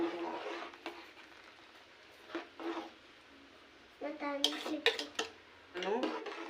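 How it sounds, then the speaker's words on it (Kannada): A utensil stirs fried vermicelli into boiling milk in a pot for vermicelli payasam, making intermittent clinks and scrapes against the metal in short bursts, with a voice heard briefly among them. "ಹಾಲಿಗೆ ಸೇರಿಸಿ ಚೆನ್ನಾಗಿ ಮಿಕ್ಸ್ ಮಾಡ್ತಾ ಇದ್ದೀನಿ"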